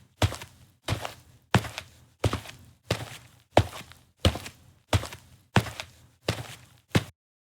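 Steady footsteps approach, eleven heavy thudding steps at an even walking pace, each a distinct knock on a hard floor, fairly close and clear with no talking over them.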